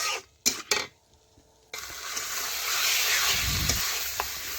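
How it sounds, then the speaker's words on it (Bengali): Chicken is stirred and fried in spice masala in a pan: a few sharp utensil clanks, a pause, then a loud, continuous sizzle with scraping stirs running to the end. "এখন চিকেনটাও ভালোভাবে মশলার সাথে এইভাবে নাড়তে নাড়তে দেখুন আমি মিশিয়ে নিচ্ছি।"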